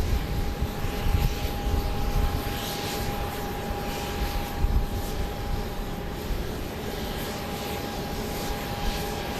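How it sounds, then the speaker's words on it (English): A Boeing 737-700 on final approach into Dallas Love Field at night, arriving from San Jose: a steady, moderate jet engine roar held throughout with a faint tonal whine, fairly distant and continuous. "Flight 1459 from San Jose, a 737-700, is now on final."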